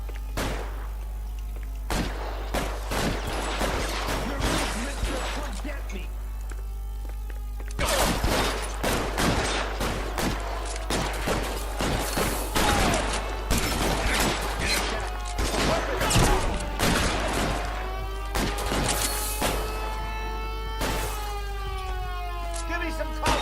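Rapid rifle and gun shots crack in dense, irregular bursts during a shootout in the video game LA Noire, with a wailing siren rising and falling underneath and a voice briefly heard among the shots.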